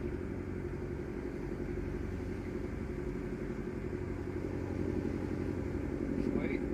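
Aboard the tall ship Pride of Baltimore II with sails taken in, the ship's motor drones steadily at a low, even pitch throughout, with faint voices now and then over the hum.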